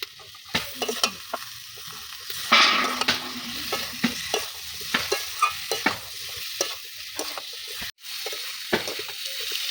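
Vegetarian curry with chopped tomato, turmeric and salt sautéed in a pan, repeated spatula scrapes and clatters over a steady hiss of frying, loud and close.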